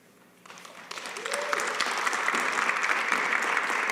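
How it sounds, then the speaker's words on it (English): Audience applause for designer Tracy Reese at the close of a talk, building from a few scattered claps into sustained, steady clapping from a sizable crowd, with a brief voice or whistle-like tone rising early on. "Let's give another warm round of applause for Tracy Reese."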